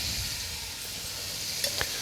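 Dried fish frying in a pan with chili powder and onions, a steady broadband sizzle running throughout with a couple of brief sharper crackles near the end, no voices over it.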